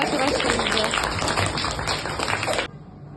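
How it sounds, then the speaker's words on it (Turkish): A classroom of students applauds after a class presentation on recycling, dense steady clapping for about two and a half seconds before it abruptly stops, leaving quiet room tone. "Alkışlayabilir misiniz"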